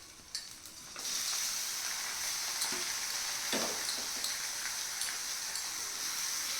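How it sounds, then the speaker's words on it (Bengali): Potatoes and onions fry in a pan and get stirred now and then, a steady close sizzle that starts after a quiet first second and holds with light scraping knocks. "আলু আর পেঁয়াজ ভালো মতো ভাজা ভাজা হয়ে গেলে"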